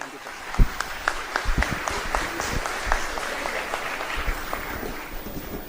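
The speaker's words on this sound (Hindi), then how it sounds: "जोरदार तालियों से स्वागत।" Crowd at a Congress political rally in Gujarat claps loudly in welcome, a dense sustained patter of many hands with sharper individual claps standing out, voices and cheering mixed in.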